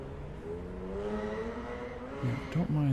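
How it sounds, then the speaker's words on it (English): Cars drive along the street below, a steady low rumble of traffic running throughout, with a brief louder swell near the end and a faint voice in the background. "don't mind the cars below."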